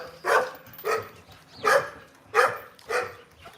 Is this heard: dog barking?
yes